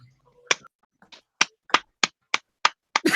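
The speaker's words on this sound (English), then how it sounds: "Yes, I'm clapping for you" Someone clapping during a casual football chat hangout, giving a run of about nine sharp, close, evenly paced claps on their own, closing in a brief burst of noise.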